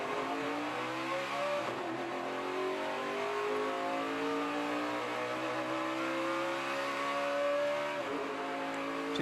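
Dale Earnhardt Jr.'s race car launches down pit road at Daytona, engine revving hard to redline through a string of upshifts, each shift briefly dipping the loud, continuous roar before it climbs again.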